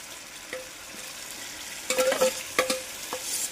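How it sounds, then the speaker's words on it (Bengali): Marinated prawns frying with masala in a pan during prawn biryani prep, making a low sizzle with bursts of stirring scrapes and spatula clinks near the end, close and without talk. "ভালোভাবে কিছু সময় কষিয়ে নেব চিংড়ি মাছের সঙ্গে, মশলার সঙ্গে।"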